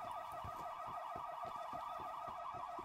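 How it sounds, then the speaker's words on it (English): A wailing alarm in the Black Ops Cold War multiplayer game rises and falls in a steady repeating cycle. It sounds continuously at moderate volume, with a sharp louder sound cutting in at the very end. "these alarm sounds are so annoying"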